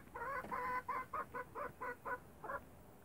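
Mixed chickens in a coop clucking close by, a run of about eight short rhythmic clucks spaced roughly a third of a second apart, then a pause and one final cluck.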